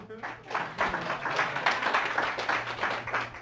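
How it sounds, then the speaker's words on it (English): A seminar audience breaks into a burst of applause, dense and fairly close. Voices can be heard over the clapping. "Give him a big round of applause."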